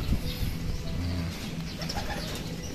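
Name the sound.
racing pigeons arriving and cooing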